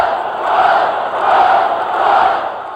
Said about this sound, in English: A few fans began to clap, and then the entire stadium began to chant.